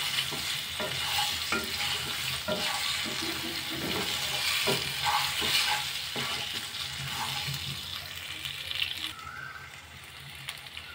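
Goli idli batter being stirred in a pan, a steady scraping and sloshing with soft repeated strokes mixed with a light sizzle, close and continuous with no talking.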